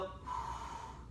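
A single close, forceful breath exhaled during a yoga exercise, short and breathy in a quiet room.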